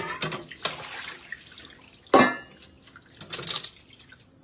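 Water runs and splashes at a sink during dishwashing, with intermittent bursts and one sharp clatter of dishes, fairly quiet and close, without talk.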